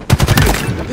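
Halo Infinite gunfire in a team Slayer match: a quick burst of several loud, closely spaced shots, with a game announcer voice speaking over the shooting.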